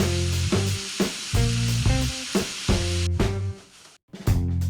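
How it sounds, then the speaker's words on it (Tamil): Onions frying with salt for dhaba-style paneer masala, a loud sizzle under intermittent droning tonal bursts, with a short drop to near silence before the frying resumes. "இப்போ வெங்காயம் நல்லா வதங்கிடுச்சு"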